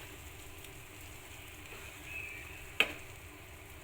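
Fried cashews and raisins are stirred into a banana dish in a pan, giving a faint, low sizzle and one sharp clink of the spoon against the pan, with no talking.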